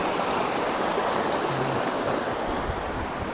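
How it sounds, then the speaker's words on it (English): A gently flowing river in the Scottish hills near Ladhar Bheinn, a steady broadband rush of moving water, close and even throughout with no voices. "Gentle sounds of the flowing river."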